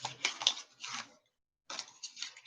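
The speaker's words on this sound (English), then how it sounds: "I want to give these a shuffle first" A deck of cards is shuffled in two close, crisp bursts of rapid riffling clicks and flutters, separated by a brief silent pause.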